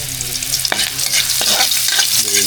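Sautéing in a pan, with steady frying sizzle and repeated stirring scrapes of a utensil against the pan, close and fairly loud throughout with no talking.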